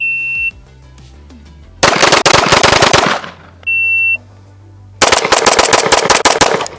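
Rapid bursts of gunshots from a subcompact Glock pistol crack out loudly in two clusters at a range, each preceded by a steady electronic beep.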